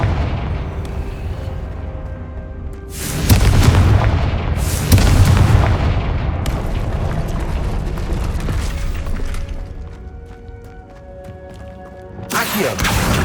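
Confringo blasting spell from Hogwarts Legacy, two heavy booming blasts a second or so apart, loud and close, followed by rumbling and a third burst near the end.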